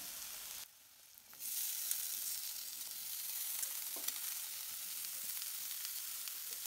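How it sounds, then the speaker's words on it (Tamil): Boiled potatoes fry in a pan of sautéed masala and are stirred in, making a steady, bright sizzling hiss that drops out briefly near the start, then swells and continues evenly. "வேக வச்சு உருளைக்கிழங்கு சேர்த்திக்கலாம்."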